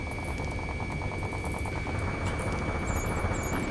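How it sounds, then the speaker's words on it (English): Dense, continuous rumble of distant gunfire and roaring jet engines echoing through city streets in the video game Ace Combat 7, a thick wall of noise with bursts of shots throughout. "Gunfire and the roar of jets echoing through the streets."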